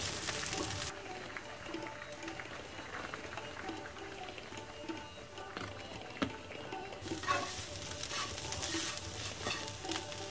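Masala spices roast in a pan with a soft, continuous sizzle and light stirring scrapes, a fairly quiet cooking hiss that brightens briefly at the start and again near the end.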